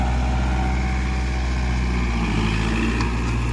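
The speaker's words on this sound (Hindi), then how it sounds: "अब ये जा रहा ट्रैक्टर चलने" A Kubota 4501 diesel tractor engine runs with a steady low rumble and a constant mechanical drone, close and unbroken, with no talking.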